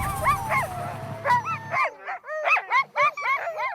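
Sled dogs bark and yip in quick, excited bursts during an Alaska dog sled ride, the barks close and repeated in a choppy rhythm, with some wind and movement noise early on.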